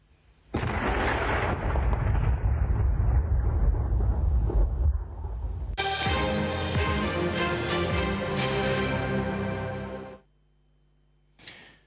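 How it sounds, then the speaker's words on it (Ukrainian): A heavy explosion from a controlled detonation of munitions at a testing range booms and rumbles for several seconds, followed by a long roaring, crackling wash of debris and echo that fades to near silence. "Увага! Вибух!"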